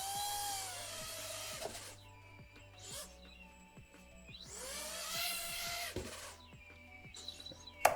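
The small motors of a BetaFPV Air75 micro drone whine in shrill bursts as it is flown in horizon mode, rising and falling in pitch with several revving pulses and short lulls between them, heard close and alone.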